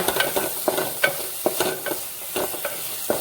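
Carrots sizzling in a frying pan while being stirred; repeated scraping strokes of the spoon or spatula sound every half second or so over a steady close, soft crackle of hot oil.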